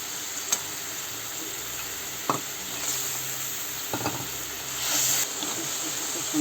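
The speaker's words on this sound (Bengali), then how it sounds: "কিছুটা আস্ত রসুন দিয়ে দিব।" Whole garlic cloves fry in oil spiced with ground coriander and other spices for a Bengali small-fish dish, giving a soft steady sizzle. A few sharp clicks of a utensil against the pan are heard, and the sizzle swells briefly near the end.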